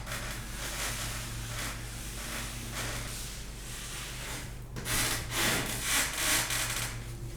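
Steady scraping of a 4-inch drywall trowel spreading compound over Fiberfuse paper and corner bead around a window return, continuous rubbing strokes with a few sharper swipes near the end, over a low constant background hum.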